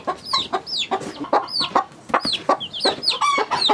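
Hens clucking and squawking in a chicken coop, a busy, close and loud chorus of overlapping calls with no pauses.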